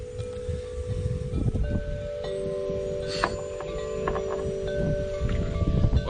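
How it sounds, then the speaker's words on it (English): Gusts of wind around twenty miles per hour buffet the microphone outdoors, a rumbling roar that swells and eases with leaves rustling and a faint steady hum in the background. "if I get out here and start tying, and of course we get 20 mile/hour gusts"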